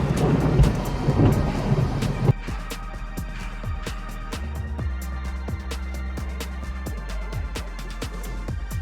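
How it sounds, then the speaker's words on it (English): Loud, close thunder from a nearby lightning strike rumbles heavily at first, then drops to a lower steady roar with rain-like crackles and sharp ticks continuing. "Lightning struck so close, even the storm chaser froze."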